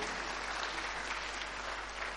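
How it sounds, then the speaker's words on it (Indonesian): A church congregation applauding for God, a steady wash of many hands clapping at once, sustained and fairly distant, without a break. "Tepuk tangan yang paling meriah buat Tuhan"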